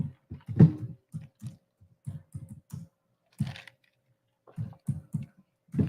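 Uneven typing on a computer keyboard, close and clear: bursts of clicky keystrokes with short pauses between them, no talking.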